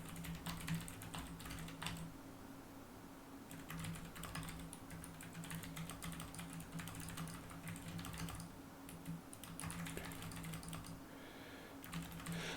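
Steady, quiet typing on a computer keyboard, a continuous patter of close key clicks with brief pauses, heard alone with no talking.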